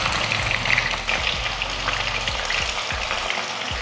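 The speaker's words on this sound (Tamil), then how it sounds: "கடாய் வச்சுட்டு அதில் எண்ணெய் நல்லா காஞ்சதுமே சிக்கன் வச்சிடலாம்." Chicken pieces fry in hot oil in a kadai for a Tamil chicken varuval. The sizzle is loud, steady and crackling, with close bubbling and occasional spattering, and no talking.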